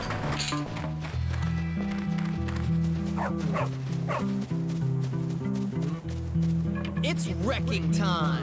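Dog barking in the video game Bully Scholarship Edition, repeated yips and woofs over steady game music and background sound.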